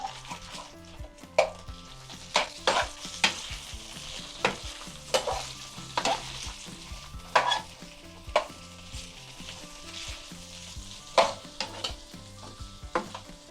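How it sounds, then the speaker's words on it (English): Quinoa and summer vegetables stirred in a hot pan: a soft, steady sizzle broken by repeated scraping strokes and knocks of the spoon at an irregular rhythm, close by, with no talking. "So we're gonna stir all this up now."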